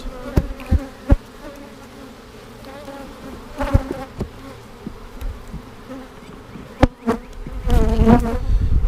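Honey bees robbing out a dead hive, a steady close buzz of many insects with occasional louder passes and some handling knocks.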